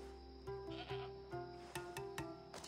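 A goat in the video game Assassin's Creed Odyssey bleats repeatedly, giving a string of short, nasal, wavering cries close up over a low steady background drone.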